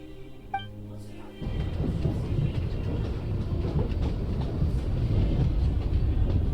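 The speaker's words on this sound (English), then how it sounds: "Did you know I have my own train?" Train running in Genshin Impact: after a brief musical chime, a loud, steady low rumble with rhythmic clatter begins and continues to the end.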